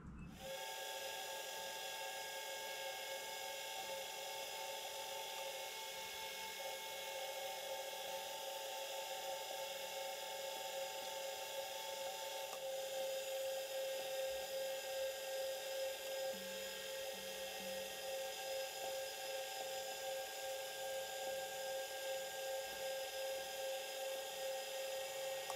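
A drill boring holes in metal makes a steady, high-pitched whine that runs continuously with a faint hiss, holding level throughout without pauses.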